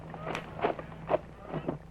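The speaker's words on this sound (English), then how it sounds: "That was an elk just raced by." Radio drama sound effect of an elk racing past through underbrush: a handful of crashing, rustling bursts in an uneven rhythm, moderately close, with no talk.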